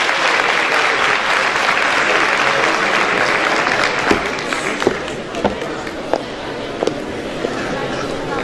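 Audience applause for a Turkish folk singer at a Turkish folk music singing competition, loud sustained clapping that thins into scattered individual claps toward the end.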